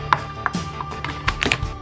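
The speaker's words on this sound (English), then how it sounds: "now it's time to chop the garlic and onion" Kitchen knife chopping garlic cloves on a board, a quick series of close, crisp taps at an uneven rhythm, around six or seven strikes in under two seconds, with no voices.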